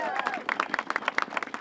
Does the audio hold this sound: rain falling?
no